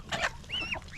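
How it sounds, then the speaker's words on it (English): Young goslings about three weeks old give a few soft, high, rising honks and peeps close by, part of a small backyard flock of geese. "Look at those little goslings in there."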